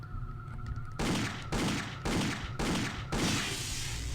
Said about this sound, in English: Big electrical explosions